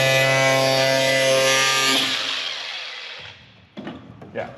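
Power tool cutting metal bodywork on a Ford Transit van conversion, a loud steady whining drone for about two seconds that then winds down and fades, followed by a few faint clunks.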